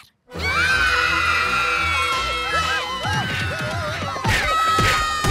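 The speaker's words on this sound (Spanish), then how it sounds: "Es momento de gritar." Several animated cartoon characters shout together in a loud, sustained chorus of high, bright voices that rises and wavers, with excited cries layered over one another.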